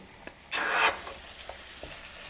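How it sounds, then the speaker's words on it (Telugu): Slit green chillies, chopped beans and carrots tipped into hot oil with garlic paste in a pan: a sudden loud burst of sizzling as they land, settling into a steady hiss with a few soft stirring knocks. "ఇప్పుడు చీల్చి పెట్టుకున్న పచ్చిమిరపకాయ ముక్కలు, బీన్స్ ముక్కలు, అలాగే క్యారెట్ వేసుకుందాం"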